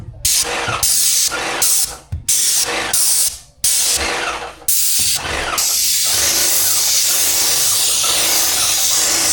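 IAQ fiber lock sealant sprays onto duct insulation inside a return duct, a loud close hiss in long bursts broken by short pauses, then one steady run to the end.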